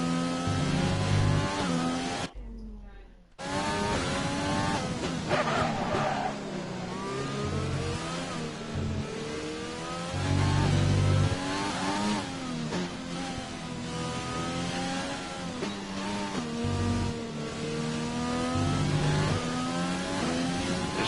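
Car engine in a racing video game during a long qualifying session, loud revving that climbs and falls repeatedly as the car accelerates and brakes, with one brief cut near the start.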